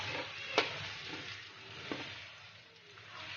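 Onion and garlic sizzle in a pan, a soft, fairly faint frying hiss with a couple of sharp clicks and stirring scrapes, close with no talking.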